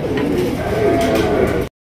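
Lahori pigeons at a crowded pigeon market, soft cooing close by under dense market chatter and background noise, ending abruptly.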